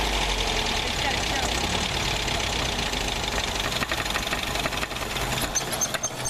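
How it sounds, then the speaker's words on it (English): A 1960 Nash Metropolitan engine idles roughly and steadily, close and loud, a continuous low rumble filling the whole stretch, with people talking faintly over it. "We need to set that idle up a little bit."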